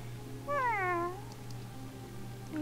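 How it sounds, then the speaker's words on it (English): A cat meows in the video game Fran Bow, one clear, drawn-out rising-and-falling meow followed by a softer trailing call over a low steady hum. "Oh, Kitty, I'll be right back."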